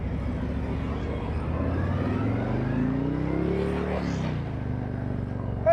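A motorcycle engine revs and accelerates out on the road to pass a truck, its pitch climbing steadily under rushing wind and road noise, loud and close, then easing off near the end.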